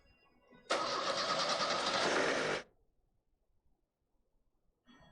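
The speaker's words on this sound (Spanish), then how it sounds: "procedemos a darle arranque al motor" A car engine is cranked and caught with a spark-plug tester connected to the plug wire, a loud sustained burst of starter and engine noise lasting about two seconds before cutting off into near silence.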